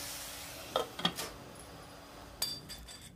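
Spinach greens cooking in a kadhai are stirred, giving a few faint scrapes and light metallic clinks of the spoon against the pan over a low, quiet background.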